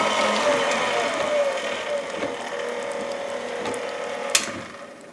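KitchenAid stand mixer with its meat grinder attachment pushing ground meat through a coarse plate, a steady whirring gear drone that holds close and loud throughout, with a brief sharp clack near the end.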